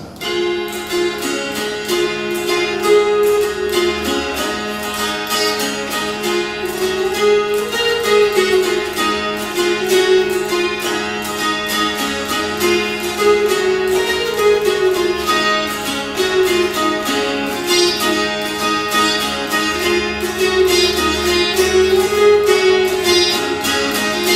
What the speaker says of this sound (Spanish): Y este es el dulcimer, es un instrumento francés, aunque se toca más en Norteamérica